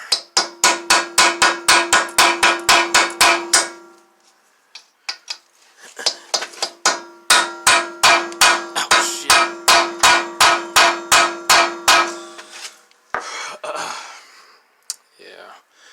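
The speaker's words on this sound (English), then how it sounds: "Take a punch pin to the center." A hammer drives a punch pin into the splined axle of a 2007 Ford Explorer during wheel bearing removal, in two loud, rapid runs of ringing metallic blows. Between them is a short pause with a few stray taps.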